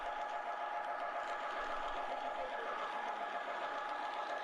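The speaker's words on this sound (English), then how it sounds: "Coming up on your left is a USA Trains J3A Hudson, and behind it are 11 heavyweight cars" A USA Trains J3A Hudson model locomotive pulling eleven heavyweight cars runs on a large layout at a train show, a faint continuous hum and whirring that stays steady throughout with no clear talk.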